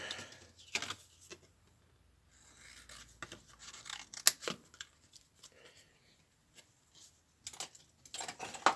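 Scissors snipping through a piece of card, a few sharp, sparse cuts and rustles heard close by in a quiet room.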